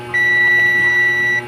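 A continuity tester's buzzer sounds one steady, loud electronic beep lasting over a second while a light-switch wiring connection is checked, with a faint hum underneath.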